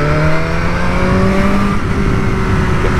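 A 2021 BMW S1000R motorcycle engine revs up loud and close, pitch rising steadily as it accelerates past slower traffic, with heavy wind rush underneath.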